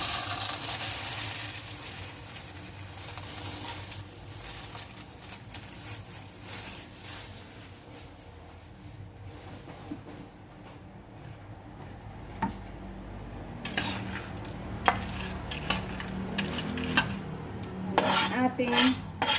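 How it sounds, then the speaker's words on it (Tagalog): Peanuts frying in a home kitchen pan for garlic peanuts, a steady sizzle under repeated scraping and rasping as a utensil stirs them, with metallic clinks growing sharper and busier toward the end. "unahin natin paglagay yung ating peanut at madaling masunog"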